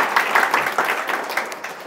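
A church congregation at a Sunday worship service breaks into applause, a dense, steady wash of many hands clapping together, fairly loud and without speech.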